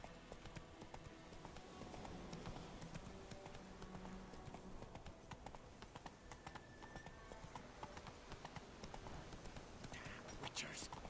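Roach the horse gallops in Witcher III, a steady run of hoof clip-clops under continuous game ambience and music, with a player speaking excitedly over it now and then.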